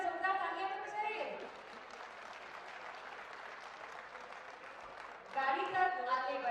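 An audience at a Rajasthan government rally claps for about four seconds, a dense steady wash of applause between stretches of someone speaking over a loudspeaker at the start and end.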